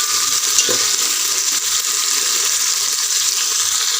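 Green chillies, crushed garlic and dried red chillies fry in a pan with a steady, fairly loud crackling sizzle and a single light clink near the start.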